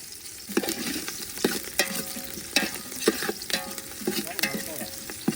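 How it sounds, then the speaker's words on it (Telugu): Onions frying in a pan until golden brown, a continuous sizzle broken by regular spatula scrapes and stirs. "ఆనియన్స్ మొత్తం గోల్డెన్ బ్రౌన్ కలర్ వచ్చేంత వరకు బాగా వేయించుకోవాలి"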